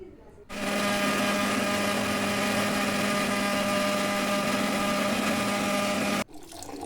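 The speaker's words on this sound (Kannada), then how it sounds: "ಮೊಸರನ್ನ ನಾನಿಲ್ಲಿ ಮಿಕ್ಸಿಗೆ ಹಾಕ್ಕೊಳ್ತಾ ಇದ್ದೀನಿ" A mixer grinder blending curd whirs loudly and steadily for about six seconds, a dense motor drone with a low hum, then cuts off abruptly.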